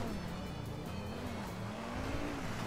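A car drifting in GTA Online, its engine droning steadily with a wavering pitch and a faint tire hiss, continuous and moderately quiet with no talk.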